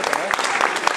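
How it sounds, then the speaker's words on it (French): Applause for young athletes at a French community sports evening gives a steady patter of many hands clapping, fairly close and continuous throughout, with voices mixed in underneath. "Ça mérite aussi des applaudissements."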